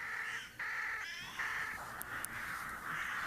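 Young jackdaws give a run of close, loud, hoarse calls, overlapping and nearly continuous with a few short breaks, with no voices.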